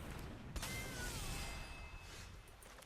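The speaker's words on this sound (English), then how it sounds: "Wow, kitty cat." A cat creature card in MTG Arena plays a soft meow that glides downward, rising out of quiet game ambience with a small click just before it, all fairly faint.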